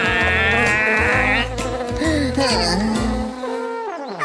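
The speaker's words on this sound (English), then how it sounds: "Quick, Leo, lest you be stung by a bee." Cartoon bees buzz loudly with a wavering, insect-like drone that bends in pitch, set against a pulsing musical backing in an animated children's show.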